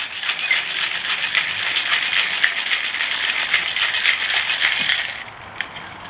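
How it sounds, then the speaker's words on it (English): A tequila cocktail is shaken hard in a cocktail shaker, with ice rattling loudly and rapidly for about five seconds before stopping abruptly, leaving a few faint clinks. "Go ahead, shake it up."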